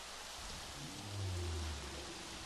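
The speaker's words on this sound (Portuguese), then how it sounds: "Olha essa chuva batendo neles" Steady rain hisses down on dinosaurs in the Jurassic World Evolution video game, a dense even wash of drops with a soft low rumble swelling briefly in the middle, no talking.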